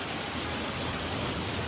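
Heavy sleet pouring down over a courtyard in Islamabad, a dense, steady hiss of falling ice and rain with no pauses, loud and even throughout.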